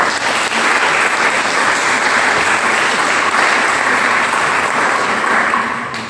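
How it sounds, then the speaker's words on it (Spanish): A church congregation gives a steady, loud round of applause during a sermon, many hands clapping together at an even level before it tapers off briefly at the very end. "denle un aplauso por eso."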